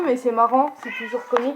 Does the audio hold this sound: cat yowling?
yes